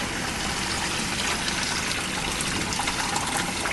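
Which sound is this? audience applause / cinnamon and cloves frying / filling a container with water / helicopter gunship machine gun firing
filling a container with water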